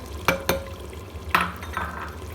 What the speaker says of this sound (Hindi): अच्छी तरह आप मिक्स कर लें